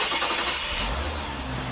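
A car engine turning over and catching, then running steadily at a low mid-pitched idle, close and continuous under a broad hiss, with no talk during the run while an alternator is being tested on a modern car or truck.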